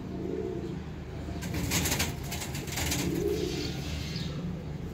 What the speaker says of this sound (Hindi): प्योर चूहा कबूतर जी।